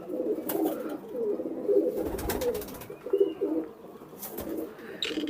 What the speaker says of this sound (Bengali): এখানে আছে সব মাদি কবুতর রেস্টে আছে